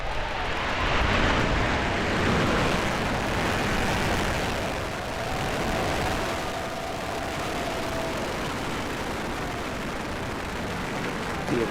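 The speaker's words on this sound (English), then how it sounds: "Ignition, liftoff." A rocket engine ignites and the rocket lifts off, producing a broad, continuous roar that holds at a steady level for several seconds with a faint rumble underneath.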